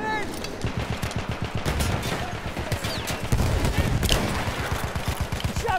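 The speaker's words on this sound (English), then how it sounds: "Machine gun right there!" Rapid machine-gun fire in the video game Battlefield 1 pounds out in a steady, fast rhythm across the whole clip, loud and close, with shouting voices and battle noise over it.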